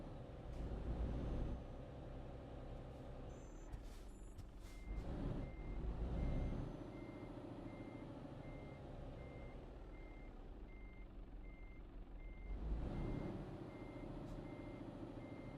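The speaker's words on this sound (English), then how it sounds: "Try to reverse again with a truck." Reversing beeps from a truck in Euro Truck Simulator 2, a steady evenly spaced tone running throughout over a loud diesel engine rumble that surges and eases.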